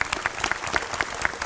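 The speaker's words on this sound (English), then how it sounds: "Let's give them a round of applause." An audience claps together at a sports gathering, a short burst of dense, moderately distant applause lasting just over a second.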